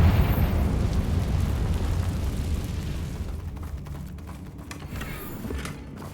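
A Confringo blasting spell goes off in Hogwarts Legacy, a loud, rumbling explosion with a deep boom that slowly decays over several seconds into scattered crackling debris.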